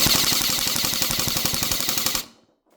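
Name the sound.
gun firing full auto to test rounds per second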